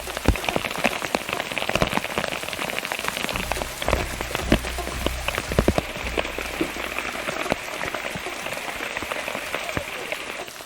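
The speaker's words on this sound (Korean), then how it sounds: "부슬부슬 내리던 비가 점점 굵어지는 게 아무래도 심상치가 않습니다" Steady rain pours down in a jungle, a dense broadband patter that thickens as it goes, with scattered louder drops striking nearby surfaces throughout.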